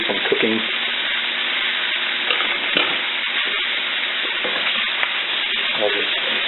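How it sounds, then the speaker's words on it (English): Vegetables are stirred into a black roux for gumbo, a dense crackling sizzle with scraping spoon strokes, loud and close and continuous. "I'll just stir all this to incorporate the roux around in the vegetables"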